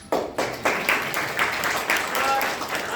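An audience at a drama society stage show claps in a brief burst of applause, sharp individual claps at first settling into a looser, uneven patter.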